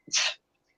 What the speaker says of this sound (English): sneezing in the middle of my speech